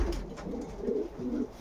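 A racing pigeon, a champion flier in a Polish loft, coos in low, rolling bursts that swell and fade several times, close by with no talk over it.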